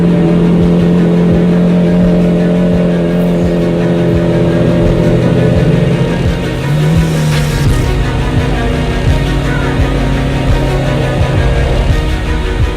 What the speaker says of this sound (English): They start the motor up